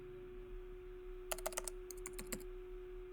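Quick bursts of typing on a computer keyboard at a Windows command prompt, a dozen or so crisp key clicks over a steady electrical hum, quiet and close with no talking.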